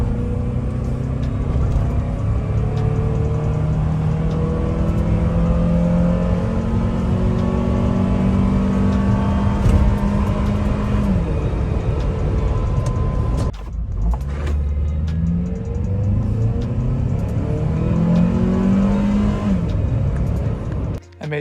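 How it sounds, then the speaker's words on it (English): A Honda Element's engine runs steadily and loud throughout, with rising and falling revs and a brief dip near the end before it picks back up. "I even included these videos showing that the motor and transmission run good."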